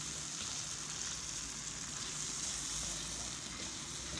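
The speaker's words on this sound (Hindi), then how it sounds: "ये तमाम ड्राई मसाले जो हैं वो इसके अंदर हमने डाल दिए हैं। और इसको जो है वो हमने भूनना है।" Dry spices such as fenugreek and cumin fry in oil in a pan for a Hyderabadi baingan dish, giving a steady, faint, even hiss of sizzling with no other sounds.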